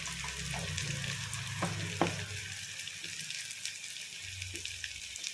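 Ginger paste sizzles quietly in a pan for chicken curry, a soft continuous frying hiss broken by a few scrapes and taps of a stirring spoon, close but faint.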